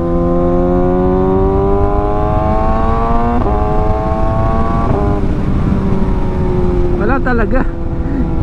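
An engine fitted with an aftermarket muffler revs up and down under throttle, its rising whine shifting in pitch over a steady rumble, loud and close, while someone talks over it.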